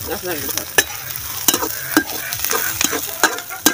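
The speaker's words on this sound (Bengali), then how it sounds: "আমি শুধু নাড়াচাড়া দিয়ে দেবো, জাল দিয়ে দেবো, এইটাই।" Bottle gourd stirred and fried in a pan: a steady close sizzle with repeated sharp scrapes of the spatula against the pan, roughly every half second, and no voices.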